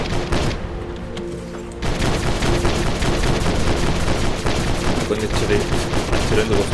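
Sustained rapid gunfire from a combat robot in the War Robots game, loud and close, starting after a short lull and running as a dense continuous burst, with a voice faintly underneath at times.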